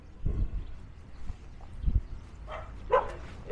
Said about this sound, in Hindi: ये जंगली कुत्ते भौंकना शुरू।